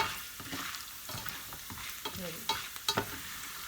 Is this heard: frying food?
yes